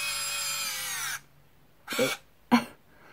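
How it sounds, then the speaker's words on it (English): Instyler Tulip hair curler with its rotating barrel motor whining steadily, then cutting out abruptly, followed by two short rustling bursts. "So you saw the barrel noise stopped"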